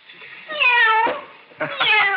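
A kitten gives two clear, fairly loud meows close by, the first long and drawn out and the second shorter after a brief pause, with no talk.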